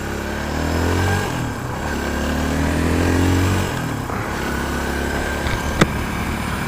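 A small 250cc motorcycle rides along quiet roads on a cold morning, its engine note climbing and falling through gear changes, steady and fairly loud, with a short sharp knock near the end.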